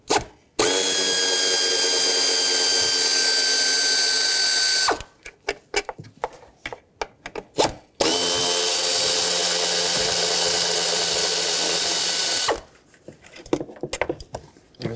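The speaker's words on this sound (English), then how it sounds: "Now take a 5 millimeter Allen socket and remove the four bolts that hold on the throttle body." Powered ratchet fitted with a 5 mm Allen socket spinning out the throttle body bolts on a 2013-2020 Nissan Pathfinder 3.5L V6, two loud sustained whirring runs of about four seconds each, separated by clicks and handling noises.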